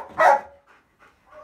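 A dog being trained to bark on command lets out one loud, close bark, followed by a few faint, short yips and whimpers in an otherwise quiet setting.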